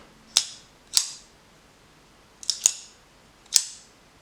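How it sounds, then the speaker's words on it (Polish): Crisp, sharp clicks from the Ambilock mechanism of an SRM 255L-GK folding knife, five snaps spaced irregularly with a quick double near the middle, close and clean against a quiet background. "Nóż chodzi po prostu świetny, aż chce się klikać przez cały czas."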